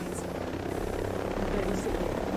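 Military drones from Ghost Recon Breakpoint hover nearby with a steady, loud rotor buzz and drone that holds constant throughout, with faint voice-like sound mixed in.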